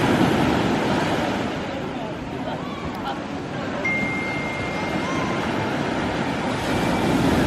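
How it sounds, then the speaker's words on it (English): Rough sea surf on the Jamaican coast by a cliffside resort: a steady, loud wash of breaking waves with wind buffeting, continuous from start to end. "the sea is so rough."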